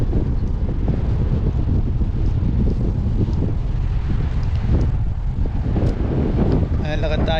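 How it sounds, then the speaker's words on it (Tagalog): Strong gusts on a rocky shore at low tide buffet the microphone in a constant roaring rumble, with rustling and flapping noise throughout and no clear speech. "Lakas ng hangin pala dito."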